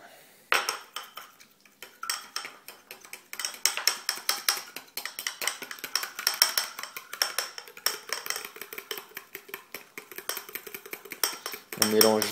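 Pizza dough stirred with warm water in a bowl, a steady run of rapid clinking and scraping of a utensil against the bowl, close and fairly loud, with a brief voice near the end.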